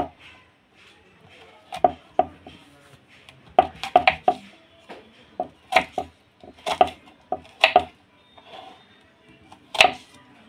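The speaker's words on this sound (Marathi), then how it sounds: "तर आता मी बारीक बारीक असे चिरून घेणार आहे।" Spiny gourd (karatule) being finely chopped with a knife on a board, irregular crisp close taps coming in quick bursts with short pauses between, no talking.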